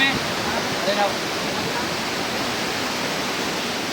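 Palali Falls, a waterfall at Diaro, Malinao, Albay in the Philippines, heard as a steady, dense rushing roar of falling water that stays constant throughout, with no clear speech.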